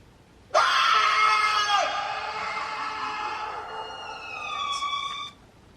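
A person screams at length in a story music video, a loud, sustained, high wailing cry lasting about five seconds and tapering off at the end.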